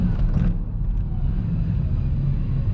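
A Honda NSX engine drones steadily from inside the cabin while driving, a loud low rumble with road noise and no break in the sound.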